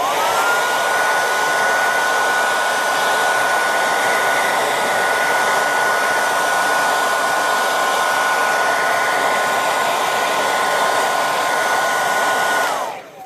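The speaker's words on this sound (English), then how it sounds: "hit it with a bit of heat from this hairdryer" A hairdryer blows hot air nonstop at close range onto a Honda S2000 emblem, a loud steady whoosh with a whining motor tone, then switches off at the end.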